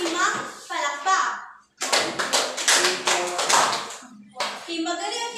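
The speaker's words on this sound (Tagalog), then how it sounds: "bigyan natin sila ng 5 palakpak" A class claps five times in unison after a group presentation in a university education course. The claps are sharp, rhythmic and close. Voices talk before and after the claps.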